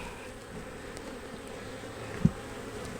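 Honey bees hum in a low, steady drone at an open hive during a beekeeping inspection, faint and continuous, with one brief knock partway through.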